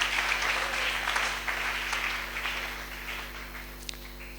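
A church congregation breaks into applause that is full at first, then gradually thins and fades, with a constant low electrical hum underneath.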